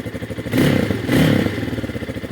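A Spark SP300T-6 motorcycle engine turning over and catching, with a rhythmic chugging idle swelling in two brief surges, heard close and alone.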